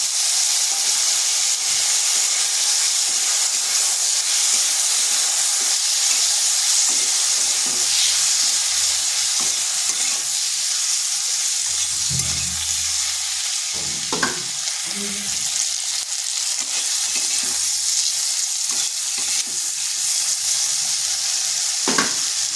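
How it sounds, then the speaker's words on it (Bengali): Potato pieces frying lightly in a pan with a tomato added, a loud, constant, close hissing sizzle throughout with scattered soft stirring knocks and clinks, no speech. "আলুটাকেও এভাবে হালকা একটু ভেজে নেব।"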